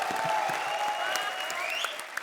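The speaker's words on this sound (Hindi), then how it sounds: "ठोको ताली" A studio audience at the Comedy Circus show claps in a short, steady burst, with a sustained musical tone running over the applause.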